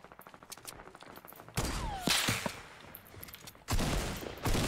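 An AK rifle fires in Overwatch, a first-person shooter game. Quick clicks lead into repeated loud bursts of automatic gunfire, with short pauses between volleys.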